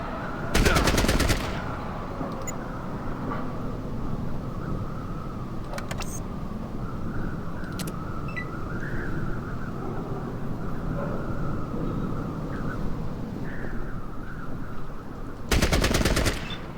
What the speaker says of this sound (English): Burst fire into them.